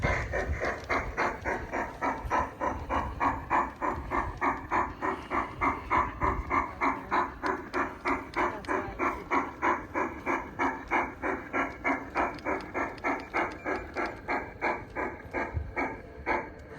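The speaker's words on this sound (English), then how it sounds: "So that's our train" A model railroad train runs steadily around a layout with a loading dock, its wheels giving a fast, even clicking rhythm across rail joints that carries on without a break.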